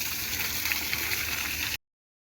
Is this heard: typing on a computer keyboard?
no